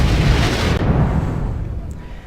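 Missiles launch and blast in a tank battle game, a loud sustained roar of explosions and rumbling fire that fades gradually over a couple of seconds.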